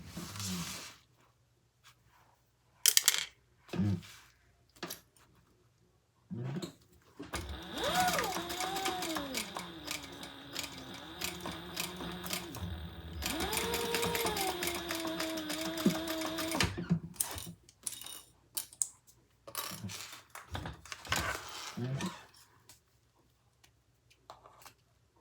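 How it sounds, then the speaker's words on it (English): A sewing machine sews the gusset of a pouch in one long steady run of about ten seconds, with a changing whine under it, framed by scattered clicks, rustles and handling noises before and after. "we're going to sew that at the seam allowance in the pattern"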